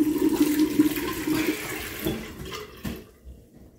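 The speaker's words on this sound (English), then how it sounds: "first, I just start with splashing some water on my face" Water runs from a bathroom sink tap, and hands splash it onto a face with close, busy gushing and sloshing. It fades out near the end.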